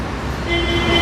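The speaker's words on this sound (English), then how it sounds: "It's funny, that's that honking again." Traffic rumble outside a Savers thrift store on Tropicana, then a steady car horn tone starts partway through and holds, fairly loud over the road noise, with no talking.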